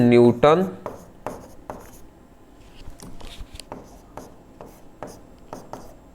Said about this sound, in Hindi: तो यहाँ पे मैं लिख दे रहा हूं